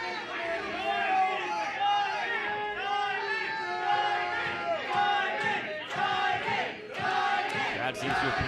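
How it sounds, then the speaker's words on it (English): Wrestling fans at a live show in Ontario cheer and shout in a dense, sustained roar with rising swells and scattered yells, steady and close throughout. "Crowd seems to appreciate Kaitlin Diamond."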